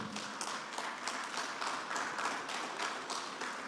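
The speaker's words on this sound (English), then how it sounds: "A round of applause, ladies and gentlemen." An audience at an energy industry presentation gives a quiet round of applause, faint even clapping from a modest crowd that carries on steadily for a few seconds.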